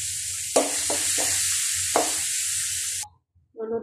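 Five-spice seeds, chili and onion sizzle loudly in hot oil with a steady hiss, broken by a few sharper bursts as ingredients hit the pan, before the sizzling cuts off abruptly near the end.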